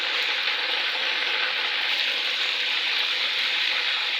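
Chicken pieces frying in hot ghee in a pot while making a deg-style korma, giving a steady, loud, close sizzle that holds even throughout with no talk.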